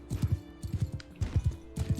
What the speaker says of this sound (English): I'm riding full tilt and adding the speed of my horse to this